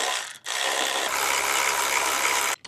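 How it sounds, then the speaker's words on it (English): A ratchet wrench clicks rapidly and continuously while bolts are tightened to mount a solar street light, close and fairly quiet, in one long burst after a short opening spurt. "We're going to tighten down and lock it down."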